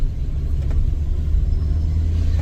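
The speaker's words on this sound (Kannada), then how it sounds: "ಮಗ ಡ್ರೈವಿಂಗ್ ಮಾಡ್ತಾ ಇದ್ದಾನೆ." Car driving on the winding Charmadi Ghat mountain road in India, a steady low engine and road rumble close up inside the car, with no talk.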